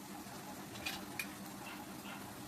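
Coarsely ground masala sizzles and is stirred in a hot pan for a mango pickle, a low steady fry with a couple of sharp spoon scrapes against the pan.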